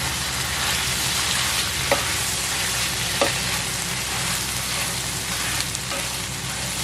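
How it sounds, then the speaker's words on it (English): Pak choy stir-fries in a hot pan with a loud, steady, dense sizzle throughout, broken by a few light scraping stirs. "Pak choy is in, give it a mix."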